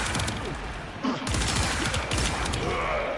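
A rocket launcher firing missiles in a PS4 video game, a quick burst of loud rapid blasts, a brief gap, then another heavy volley with booming impacts.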